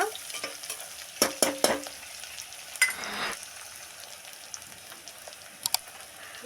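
Two onions frying in a pan for a mixed leafy-greens curry, giving a faint steady sizzle broken by a few sharp scrapes and clicks of stirring, with no voices.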